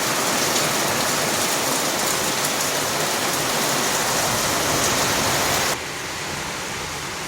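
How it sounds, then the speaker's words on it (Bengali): Heavy rain pours steadily in a dense, even hiss that stays loud and close for most of the stretch, then drops noticeably in level near the end while still falling. "আমাদের এখানে কিন্তু প্রচুর বৃষ্টি হচ্ছে।"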